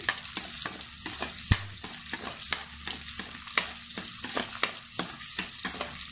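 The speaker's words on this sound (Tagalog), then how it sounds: "Una, sibuyas guys. Yan. Isang cube na sibuyas. Yan. Gisa natin." Cubed onion sautéing in oil for fish escabeche sizzles steadily and close by, punctuated by a regular series of light scraping and tapping strokes from the spatula.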